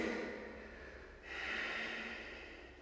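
Steady breathing during a yoga session, with a soft drawn-out breath that swells into a longer, slightly louder exhalation, heard close and alone.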